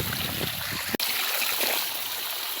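Irrigation water flows and gurgles steadily nearby in a farm field, a continuous rushing stream broken by a brief sharp click partway through.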